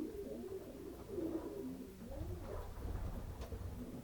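Racing pigeons coo softly and continuously, several birds murmuring together in a loft with a low background rumble.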